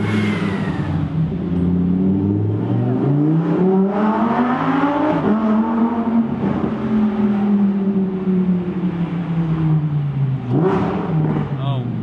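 A Lamborghini Huracan Performante Spyder in Corsa mode revs loudly up close, its engine note climbing and falling in repeated sweeps with a sharp burst near the end, while people talk over it.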